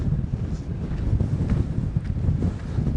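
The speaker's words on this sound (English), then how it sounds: "You can hear how windy it is." Strong wind at a viewpoint in northern Lanzarote, a steady loud roar and buffeting across the microphone throughout, with no other sounds standing out.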